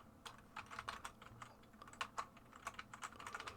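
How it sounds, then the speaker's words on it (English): Rapid clicking keystrokes on a computer keyboard as a web address is typed, close and fairly quiet, in uneven bursts with no talking. "if you open a browser window and you just type in"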